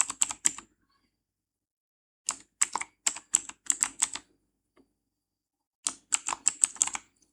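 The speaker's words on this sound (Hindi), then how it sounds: "अब मैं यहाँ पर अपना पासवर्ड सेट करूँगा।" A password is typed on a computer keyboard in three quick bursts of crisp, close keystrokes separated by short silent pauses in a quiet room.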